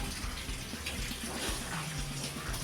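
Water sloshes and gushes steadily in a washtub as laundry is pushed under the soapy water by hand, a continuous wet churning heard up close.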